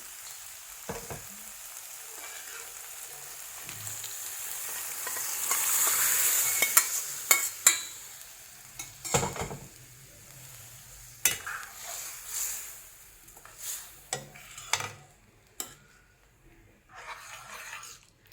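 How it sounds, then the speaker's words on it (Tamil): Boiled dal and raw banana go into a pan with softened tomato, a soft sizzle swelling then giving way to irregular clinks and scrapes of a spoon stirring, near and moderately quiet. "இப்போ நான் வேக வச்சுருக்கிற பருப்பும் வாழைக்காயும் போடுறேன்"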